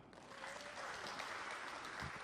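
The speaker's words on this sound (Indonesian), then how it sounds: "Boleh tepuk tangan." Faint, distant clapping from a seated audience at an Indonesian parliamentary hearing, a soft steady patter throughout.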